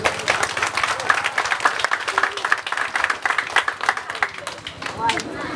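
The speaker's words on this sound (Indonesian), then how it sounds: "Makanya perlu kita kasih aplaus kepada Kampung Desa Orahili Sibohong ini" Audience at a village inauguration ceremony for a Pancasila village clapping steadily, a dense round of applause with a few louder claps near the end.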